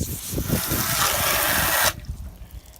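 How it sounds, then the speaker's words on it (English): Garden hose spraying water onto eMac computer parts being cleaned outdoors, a loud close gushing hiss that stops abruptly near the end, leaving quieter dripping and handling noise. "I have the hose, and I do have some soap"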